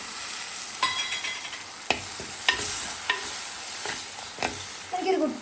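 Tomato and curry leaves fry in a pan with a steady hiss while a spoon scrapes and stirs at intervals, several distinct scraping strokes over the sizzle.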